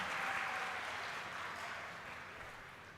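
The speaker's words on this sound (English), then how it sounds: "Give yourself applause." Graduates at a college graduation ceremony applaud themselves, a dense, steady wash of clapping from a large crowd that slowly fades over a few seconds.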